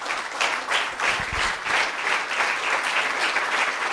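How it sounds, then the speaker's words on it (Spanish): A church congregation applauds steadily and enthusiastically for several seconds, clapping dense and sustained, with no voices standing out. "Dele un aplauso fuerte al Señor."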